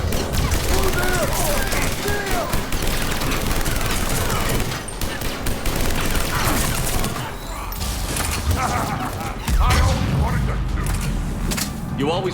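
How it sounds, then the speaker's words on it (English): Dense gunfire from a firefight aboard a ship's CIC in Mass Effect Legendary Edition, Citadel DLC: loud sustained shooting with booms and mechanical clatter, and voices speaking among the shots. "You always wanted to have a firefight on the CIC at my ship?"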